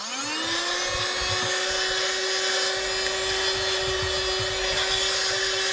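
A TOPDON handheld car vacuum cleaner spins up and runs with a steady, loud motor whine and airflow rush, constant and close throughout, with rough suction noise underneath and no talking.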